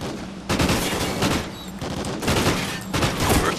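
Dense, sustained automatic gunfire in Call of Duty: Ghosts on the Sin City map, loud and close, with rapid overlapping bursts and only brief breaks, and no talking over it.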